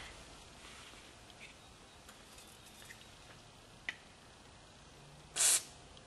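A short, sharp hiss of WD-40 aerosol spray burst near the end, applied generously into a Craftsman chainsaw, after a quiet stretch with a faint click.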